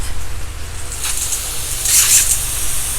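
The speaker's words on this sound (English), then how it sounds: "now we have this handy dandy mister at the end of our hose" A hose-end mister sprays water onto a messy seed tray for a kids' seed-planting kit, a soft steady hiss that swells in two brief bursts over a low background rumble.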